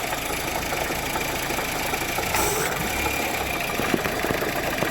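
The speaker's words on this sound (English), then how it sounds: "Gosh darn it, the compressor's locking up." A 2015 Honda Civic's AC compressor locking up, heard as a continuous loud engine idle with a harsh mechanical knocking and vibration throughout, no talking.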